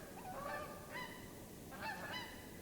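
A flock of geese honks outdoors at a distance, several faint overlapping calls rising and falling in two clusters.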